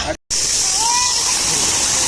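Artificial waterfall in a park pouring steadily, a bright constant rushing roar after a brief cut at the start, with a faint voice over it.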